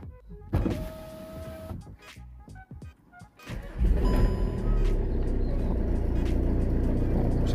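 A car with no fuel is cranked over, the starter motor whirring with a whiny, strained tone that rises into a sustained loud grinding churn after a few hesitant clicks and bursts.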